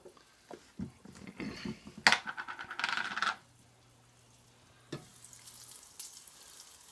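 A pork chop frying in bacon grease crackles and sizzles in close, uneven bursts that swell to a loud spitting rush, then drop to a low simmer broken by one more sharp pop.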